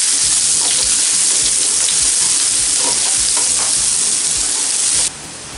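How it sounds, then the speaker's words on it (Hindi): Mutton keema and medium onions frying hard on a tawa over high flame, a loud dense crackling sizzle with constant stirring scrapes, close and continuous, no voices. "इसको एक 8 से 10 मिनट हाई फ्लेम पे इसको फ्राई कर लेते हैं।"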